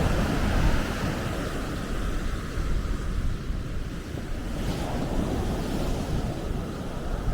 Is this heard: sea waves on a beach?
yes